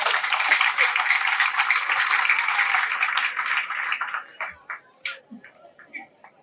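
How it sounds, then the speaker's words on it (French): An audience at a World Refugee Day event applauds for Congo, with sustained dense clapping that breaks into scattered individual claps before dying away. "Applaudissez le Congo, s'il vous plaît"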